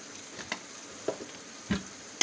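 Chickpea pulao masala with green chilies and crushed red chili sautéing in a pan, a soft continuous sizzle broken by several sharp clicks and scrapes of stirring, close and fairly quiet.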